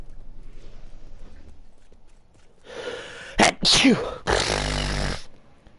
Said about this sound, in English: God, I'm sneezing so much.